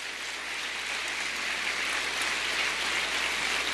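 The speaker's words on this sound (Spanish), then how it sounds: "¿Cuántos le dan un aplauso?" A large church congregation gives a long, even round of applause, a dense, hiss-like wash of clapping that holds steady throughout.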